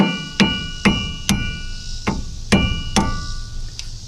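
Sharp metallic hammer blows strike a wheel bearing during disassembly, six evenly spaced loud impacts, each ringing briefly before the next, close up with no talk.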